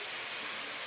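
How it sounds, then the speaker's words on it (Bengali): Fish and spice masala with tomato sizzle in a hot pan, a steady bright frying hiss with faint crackles, close and continuous for under a second. "দেখো মাছ দিয়ে আমি মশলাটা পুরো কষিয়ে নিচ্ছি।"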